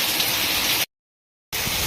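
Heavy monsoon downpour over a village in Palitana, a loud, dense, steady hiss of rain that cuts out to complete silence partway through and then returns just as strongly.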